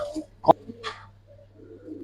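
A silver Giribaz pigeon of an old breed gives a short, soft coo of a couple of quick notes, close but faint, in an otherwise quiet moment.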